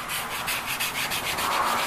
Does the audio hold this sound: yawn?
no